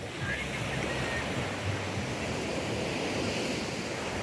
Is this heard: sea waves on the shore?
yes